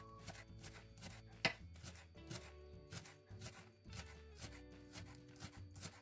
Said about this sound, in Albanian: do gri dy qep të njoma, vetëm pjesën e kërcelit